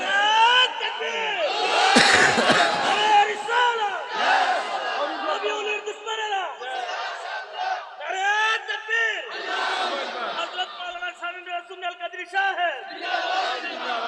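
A large congregation at a Bengali Islamic waz sermon shouts the takbir in unison: loud, repeated collective cries that rise and fall in waves, dense with many overlapping voices.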